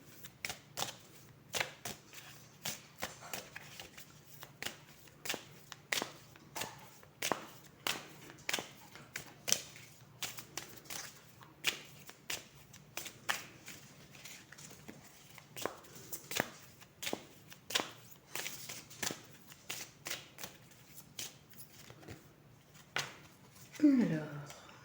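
Oracle cards with a flower-and-animal theme being shuffled by hand in a quiet room, a steady run of soft flicking riffles and light taps repeating for about twenty-five seconds, with no voices.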